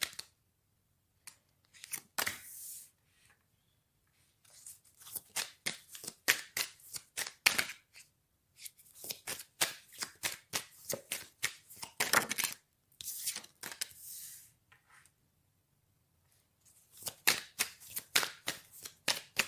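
Oracle cards shuffled by hand in bursts of quick, crisp riffling flicks separated by short silences, close and clear with no talking.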